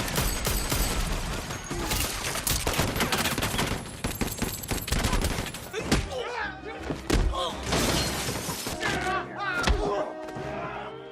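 Rapid bursts of gunfire fill a film's nightclub shootout against mafia gunmen, a dense, loud barrage of overlapping shots and heavy thuds for several seconds, then sparser single cracks and impacts among other scene noise.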